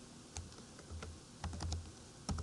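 Clicky computer keyboard typing in short bursts of keystrokes, close and fairly quiet, with a low background hum and no talk.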